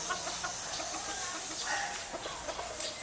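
Young roosters cluck softly and repeatedly in the background over a noisy, hissy outdoor ambience, with no voices.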